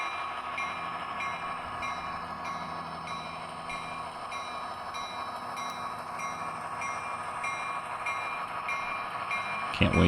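Model train locomotive with bright ditch lights running steadily on a layout, a continuous mechanical rumble and hum with a sharp click near the end.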